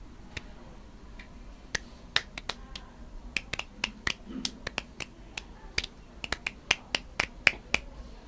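A small group clapping in celebration of a work anniversary, sparse, uneven hand claps scattered across several seconds, soft and close, with quiet chatter underneath.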